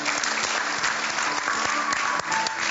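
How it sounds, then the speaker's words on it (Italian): An audience applauds director Massimiliano Montefameglio at a televised event, producing dense, steady clapping that continues without a break. "Un applauso a Montefameglio"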